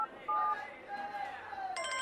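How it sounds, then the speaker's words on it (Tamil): A mobile phone rings with a faint, warbling electronic ringtone that shifts pitch and turns brighter and busier near the end, set against a low background murmur. "ஃபோன் அடிக்குதுங்க"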